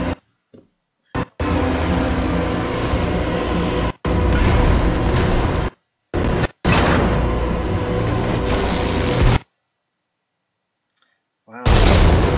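Airstrike explosions in Battlefield V boom and rumble in loud sustained stretches, broken by abrupt cuts to silence between bursts, with a final blast returning at the end.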